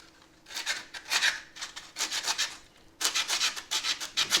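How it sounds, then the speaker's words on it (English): Hand sanding smooths a repaired rust patch on a 1965 Corvair in quick, rhythmic back-and-forth strokes. The rasping is close and fairly loud, with a brief pause partway through. "Just gotta sand that smooth."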